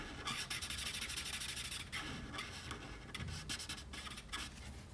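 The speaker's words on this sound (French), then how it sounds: "on commence avec un pâle yellow avec lequel on va venir colorier la petite crête ici" A pale yellow felt-tip marker is rubbed in quick scratchy strokes across paper to colour a small crest on a Pokémon emoji drawing, with a steady close rasp and brief pauses between strokes.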